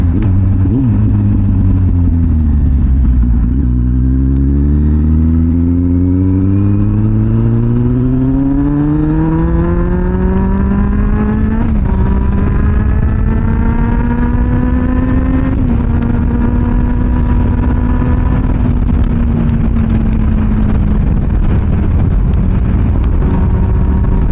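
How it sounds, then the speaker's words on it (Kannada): A Kawasaki Z800 inline-four motorcycle engine drones loud and smooth while riding through a six-speed gearbox, its pitch rising through gears and then holding steady at cruising speed amid wind noise. "ಆದರೂ ಸಖತ್ ರಿಫೈನ್ಡ್ ಇದೆ ಗುರು ಇಂಜಿನು"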